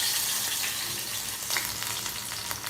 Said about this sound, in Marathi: आपण गरम झालेल्या तेलामध्ये या मिरच्या टाकून